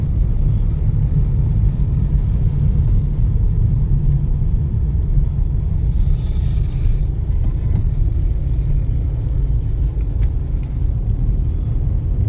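Early-morning traffic on Ghodbunder Road in Mumbai, heard from inside a vehicle as a continuous, heavy low rumble of engines and road noise, with a brief faint hiss partway through.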